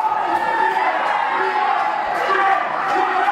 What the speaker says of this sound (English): And listen to this crowd, they still love the former UKW heavyweight champion.